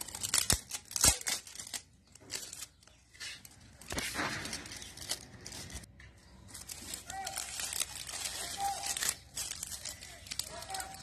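A gift box being opened by hand: paper and plastic packaging crinkled, torn and cut in irregular bursts with short pauses, close and fairly quiet.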